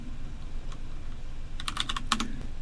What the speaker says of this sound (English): All I do is type the first couple of letters, and then I hit tab